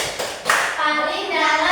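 A group of schoolchildren claps together in a classroom after a group presentation, a burst of fairly loud, dense applause building and continuing steadily with a few young voices mixed in.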